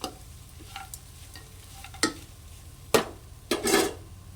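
Turmeric being stirred into a Maharashtra kanda poha mixture in a pan: a quiet background sizzle broken by several distinct spoon scrapes and clinks against the pan, with sharper strokes late in the clip.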